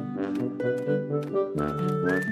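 A clear, melodic whistled tune rises and falls through several short notes, close and steady, with no talking over it.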